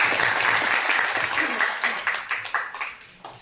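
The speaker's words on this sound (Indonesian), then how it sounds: "Kita beri tepuk tangan yang luar biasa buat Yesus." Church congregation applauding for Jesus, a dense wash of many hands clapping that fades over about three seconds, with a few voices calling out beneath it.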